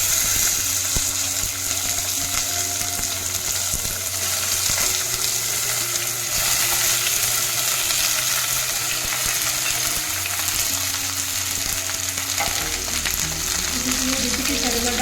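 Tender ivy gourd pieces, cut lengthwise, fry in hot oil in a pan with a steady, dense sizzle that carries on evenly throughout, close and fairly loud, with faint stirring and no talk.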